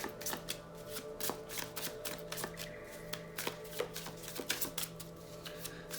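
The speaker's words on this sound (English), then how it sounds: "Give them a good shuffle before I ask any questions." A deck of tarot cards being shuffled by hand close up, a quiet continuous riffle of rapid papery flicks and soft slaps with no talking.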